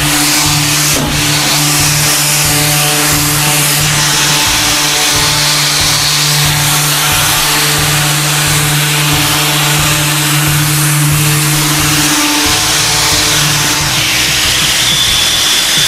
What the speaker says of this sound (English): It's compact and light, but yet still has the power of what you need for doing the sanding that we're doing.